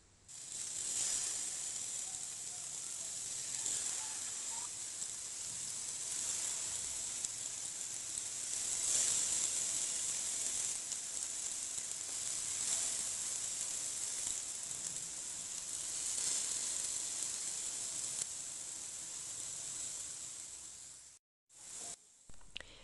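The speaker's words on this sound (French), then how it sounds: "je les place dans cette poêle préchauffée. La cuisson se fait sur feu doux." Flattened dough balls cook in a preheated pan over low heat, giving a steady, soft sizzle and hiss that runs nearly unbroken for about twenty seconds before cutting off briefly near the end.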